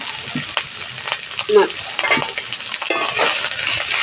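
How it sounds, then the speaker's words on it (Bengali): Oil sizzles in a pan while a spoon stirs and scrapes, close and continuous, with spices and ginger paste being cooked alongside fried fish. A few sharper clinks rise above the hiss. "মাছটা ভাজা হয়ে গেছে"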